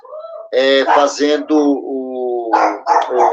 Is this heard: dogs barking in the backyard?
yes